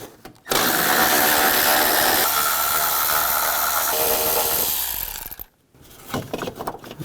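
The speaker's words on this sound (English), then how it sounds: "Use a 10mm socket and take those out." A power ratchet or impact tool driving a 10mm socket to remove bolts and nuts from a plate while replacing the water pump on a 2009-17 Chevy Traverse, one long loud whirring run of about five seconds, then brief clicking handling noises.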